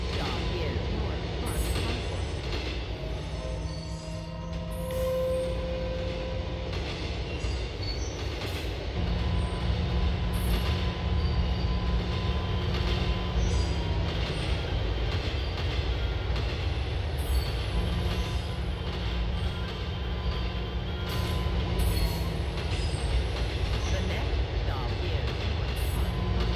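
A subway train in the game GTA IV rolls along with a continuous rumble and occasional wheel squeal, while an onboard announcement voice speaks over it.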